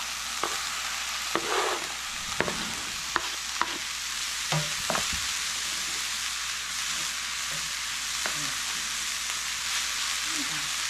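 Swiss chard frying in a pan: a steady, even sizzle with occasional clicks and scrapes from stirring, fairly close.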